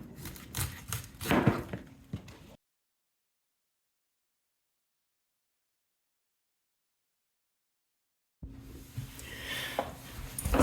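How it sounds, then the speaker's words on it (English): A knife quarters a cabbage and cuts out its core, giving crisp crunchy chopping on a board in two short bursts split by a long stretch of silence. "We're going to quarter it, cut out the core."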